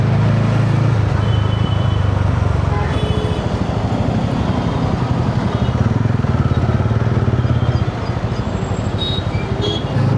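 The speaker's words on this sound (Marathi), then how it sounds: "तुमचा भाऊ घाबरत घाबरत का होईना पहिल्यांदा हायवेवर गिअर बाईक घेऊन आलेला आहे." A TVS Ronin geared motorcycle rides along a highway, its engine droning loud and continuous with heavy wind and road rumble throughout, steady with no pauses.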